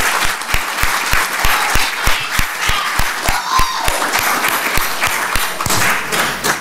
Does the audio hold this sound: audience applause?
yes